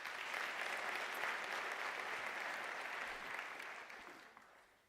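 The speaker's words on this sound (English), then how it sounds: "I think he deserves a round of applause." Applause at a UNISA autumn graduation ceremony, a faint, even, distant wash of many hands clapping, sustained for several seconds before slowly fading.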